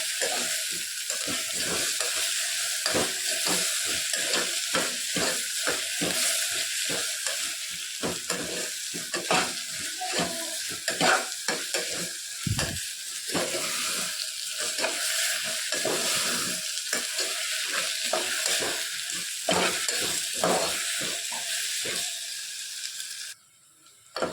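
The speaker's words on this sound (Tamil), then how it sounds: "வதங்கட்டும் கை எடுக்காமல் செஞ்சு விடணும்" Vegetables sauté in a hot pan, a steady loud sizzle broken by constant rapid scraping strokes of a spoon stirring without pause.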